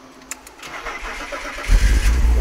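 A BMW Alpina B6 engine cranks briefly and catches on the first try, then settles into a loud, steady running rumble close by.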